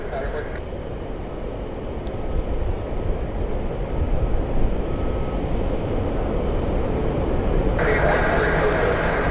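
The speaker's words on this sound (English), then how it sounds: "we got a special livery inbound. JetBlue Flight 1923. It's the Peacock livery inbound from DCA." A JetBlue airliner in Peacock livery arrives at Orlando International Airport with a steady, broad roar that holds throughout. A voice talks over the noise.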